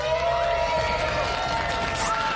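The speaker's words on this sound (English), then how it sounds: "Let's have a cheer if you think LJR Peixoto is going to win this game." An audience at an FC Pro Open 2025 esports semi-final for the football game FC raises a sustained, fairly full cheer that carries evenly through the whole moment without letting up.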